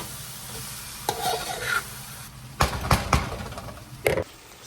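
Cabbage frying in oil for Liberian fried cabbage, stirred in a pan: a few sharp scraping and clattering strokes over a low continuous sizzle, close up, without speech.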